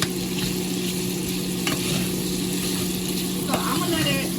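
Sausages stirred with a spoon as they fry in a pan for a seafood boil, giving a steady sizzle with faint scraping and clinks over a constant background hum.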